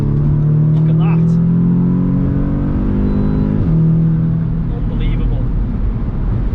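A tuned Audi S3 8V pulls hard, its engine note climbing steadily in pitch before a quick gearshift drop and another rising surge, loud and close from inside the cabin, with someone talking over it.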